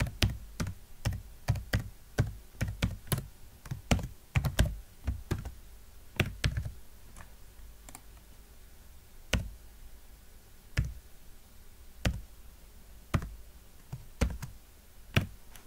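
A computer keyboard is typed on nearby to enter a username and password: a quick burst of keystrokes, then slower, scattered individual taps, with no talking.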